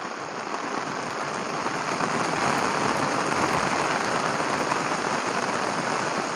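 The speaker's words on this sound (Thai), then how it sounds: "อนนี้เหมือนฝนจะเริ่มแรงแล้วครับ" Heavy rain falls at the Lam Phra Phloeng dam in Thailand, a dense, even hiss of drops on surfaces that grows slightly louder and keeps going without talk.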